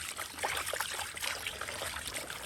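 Running water splashes and trickles over meat bones as flour is rinsed off, a brief, close, continuous wet rush with no speech.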